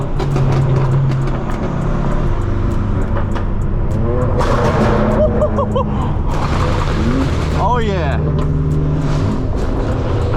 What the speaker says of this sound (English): A bunch of crazy sounding cars going through that tunnel at once.